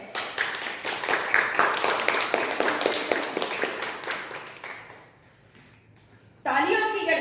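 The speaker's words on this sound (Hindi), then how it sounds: "तालियों की गड़गड़ाहट के बीच उनका स्वागत हुआ।" An audience claps to welcome Jyoti Singh and her team, honoured for rescuing children and teachers from terrorists, producing a rhythmic wash of hand claps that fades out before a voice begins speaking.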